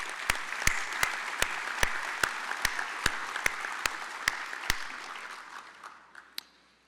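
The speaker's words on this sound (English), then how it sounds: "Please join me in recognizing Mr. Rodriguez with a round of applause." Applause at a business session for a veterans' award recipient, with a scattered crowd clapping and several sharp, distinct single claps standing out before it thins and fades.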